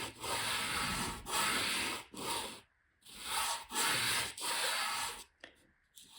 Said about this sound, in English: rub it with a clean finger